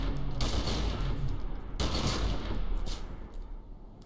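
Gunfire in the video game Secret World Legends, a rapid burst of repeated shots in two rolling volleys, fairly loud and without talk.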